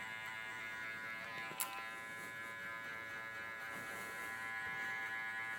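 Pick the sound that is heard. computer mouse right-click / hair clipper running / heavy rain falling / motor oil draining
hair clipper running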